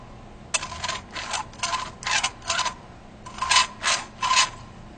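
A valve seat cutter scrapes a 30-degree angle into a cylinder head, producing about eight rhythmic, rasping strokes close up, each a short gritty burst separated by brief pauses.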